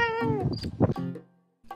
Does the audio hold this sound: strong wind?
no